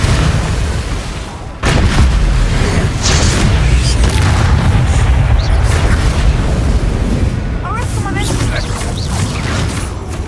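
Confringo blasting spell explosions crash through a Hogwarts Legacy battle, a sudden loud boom in a dense, continuous wash of spell effects and combat noise, with a voice shouting over the fight.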